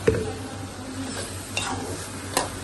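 Chicken frying in a pot, about three quarters of a kilo, with a steady low sizzle and a few sharp stirring knocks against the pot.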